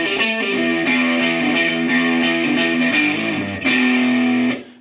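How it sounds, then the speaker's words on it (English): An electric guitar played through the Avid Eleven Rack's Tube Screamer copy gives a sustained, overdriven tone, with several picked notes and chords ringing with harmonic-rich distortion before one final chord fades out. "This is their copy of the Tube Screamer, the Avid Tube Screamer."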